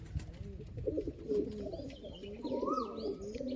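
Pigeons in a loft after flying, cooing in low repeated throaty phrases close by, with a few brief higher chirps mixed in and soft background murmur.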